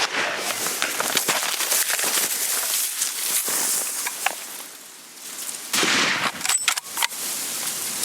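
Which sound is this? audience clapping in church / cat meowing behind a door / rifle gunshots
rifle gunshots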